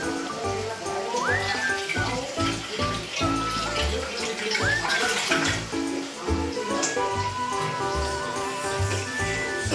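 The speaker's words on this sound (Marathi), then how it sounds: "थोडासा याच्यात पाणी घेऊ." Water is poured steadily into a pot of marinated chicken for biryani, making a loud, continuous splashing gush close by that lasts throughout. A voice talks over it.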